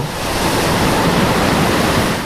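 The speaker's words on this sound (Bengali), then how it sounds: "প্রবাহিত পানির ঝরঝর শব্দ" Steady rushing water from a stream in a quiet Swiss mountain village, a continuous broadband wash heard close and fairly loud throughout, with no voices or traffic.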